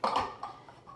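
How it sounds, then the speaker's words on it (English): A food processor blade set into its bowl clicks into place with a short plastic clack, followed by a couple of faint ticks, close and quiet. "We're gonna put this right in the bowl and it will click on."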